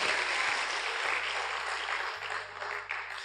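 Applause from a church congregation, a dense, steady wash of many hands clapping that fills the space, with a low hum running underneath.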